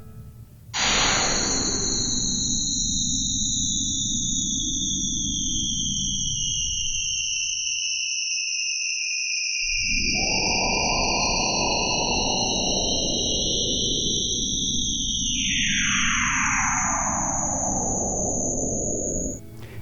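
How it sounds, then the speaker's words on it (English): Bright electronic tones glide up and down over dense hissing noise, with a sudden gap of near-silence midway before the noise returns. "in White Noise Sculpture by Tyler Bentley, tones are heard sweeping up and down near many of the boundaries of blocks of sonic energy."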